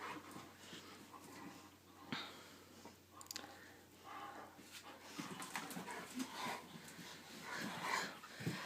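Young dogs scuffle and pant at play, with soft whimpers, snuffling and chewing noises close by, fairly quiet and continuous.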